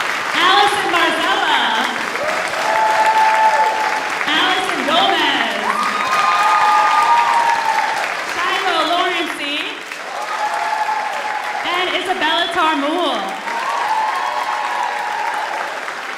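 Long, loud applause from a school spring concert audience for the soloists, a dense sustained clapping with some cheering, while people speak over it throughout.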